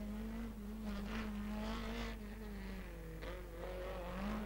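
A rally car passes on a special stage of the Rally Valli Ossolane, its engine note heard from a distance, rising and falling through gear changes, faint and steady with a brief sharp burst near the end.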